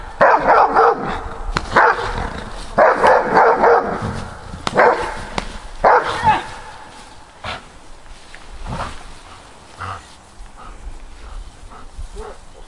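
Dogs bark loudly and close by in repeated sharp bursts, then the barking stops and quieter background noise remains.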